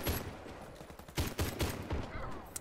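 A Saiga Spike shotgun fires in the video game Warface, with several heavy booming shots in quick, uneven succession, loud and close amid game noise.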